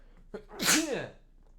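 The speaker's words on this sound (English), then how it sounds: "I'm gonna sneeze" A single loud sneeze in the video game Phoenix Wright: Ace Attorney – Justice for All, with a sharp intake of breath followed by an explosive burst, close to the microphone and otherwise quiet.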